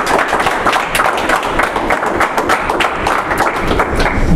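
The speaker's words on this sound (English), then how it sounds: "Round of applause for Cheyenne." An audience applauds after a presentation, steady dense clapping that fills the whole moment, loud and close.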